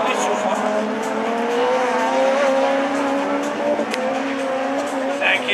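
Renault Twingo race cars howl past on a circuit with steady, loud engine drone and rising gear tones, their front tires squealing under load, while a commentator talks over the action.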